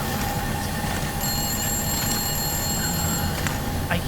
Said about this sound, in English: I hear the phone. Where is it?